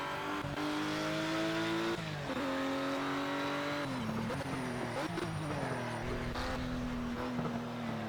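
A Ruf RT 12 R racing around the Nürburgring in the Project CARS video game, its engine note climbing and dropping steadily through gear changes, loud and continuous, with occasional tire squeal.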